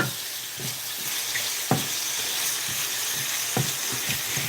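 Ingredients for a cream pasta stir-fry in a pan, with a continuous moderate sizzle and scattered light knocks and scrapes from stirring.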